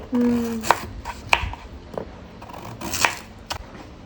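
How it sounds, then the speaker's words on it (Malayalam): A knife chops and scrapes at a hard elephant foot yam while it is being peeled, giving several close, sharp cuts and knocks spaced about a second apart, with no talking. "ആദ്യം ചേനയാണ് കാ തൊണ്ട് കളഞ്ഞെടുക്കണതാ ഓ കത്തി കയറണില്ല ചേനക്കട്ട് കടുപ്പേ"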